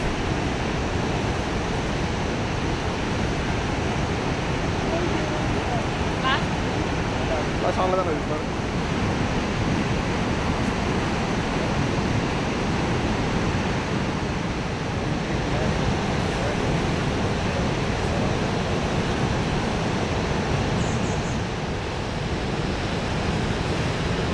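A wide Swiss waterfall's steady, powerful roar fills the air, a constant broadband rush with no breaks and no voices.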